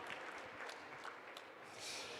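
Faint, distant applause from a conference audience at a local-food forum workshop, a steady patter of clapping heard alone at low level.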